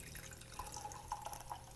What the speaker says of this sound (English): strain it back into the glass.